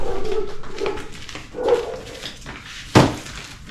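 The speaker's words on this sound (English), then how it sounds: "there's a dog walking around with its owner and all the other dogs are barking at it saying good morning" Several dogs bark outdoors in the morning at a passing dog being walked, a mix of muffled barks and yelps at middle distance, ending with one sharp louder bark.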